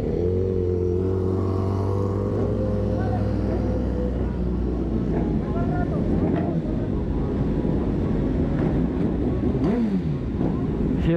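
A pack of superbike motorcycles, BMW S1000RR and Ducati machines, rolling in at a street meet in Miami, engines droning and revving in a loud, steady roar with pitch sweeps as bikes pass close by.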